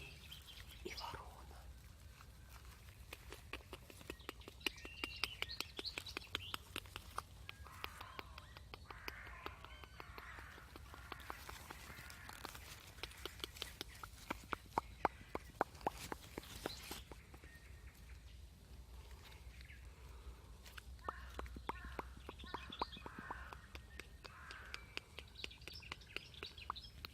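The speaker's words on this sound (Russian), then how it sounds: "Соловей и ворона." Crow caws and small bird chirps and tweets scattered through a quiet outdoor soundscape, soft and intermittent over a low rumbling background, with faint whispering now and then.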